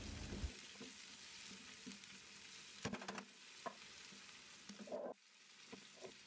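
Diced beef and onions fry quietly in a pan, with soft sizzling broken by scraping, clinking stirs and a few sharper knocks.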